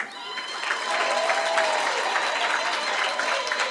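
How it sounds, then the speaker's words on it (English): A graduation audience in Gauteng applauds a graduate being called up, sustained clapping that rises after the first second and holds steady, with crowd murmur underneath. "Let's hear, can give them a round of applause again."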